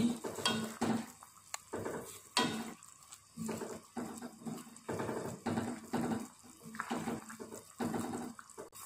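A spoon stirs beef asem-asem in a pan, giving repeated scraping, clinking strokes over a soft simmering bubble, close and steady with brief pauses between strokes.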